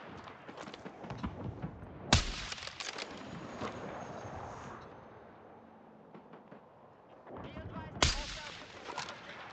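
Loud gunfire in the first-person shooter Battlefield 6, two sharp, close shots standing out from a busy battlefield with ongoing distant firing and rumble, with someone talking in between.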